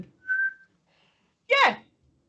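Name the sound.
person whistling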